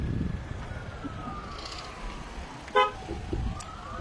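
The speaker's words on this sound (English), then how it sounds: "and there's more cars going." Cars drive past on a road on the Mount of Olives in Jerusalem, making a continuous traffic whoosh, with a short sharp horn toot near the end and faint distant tones.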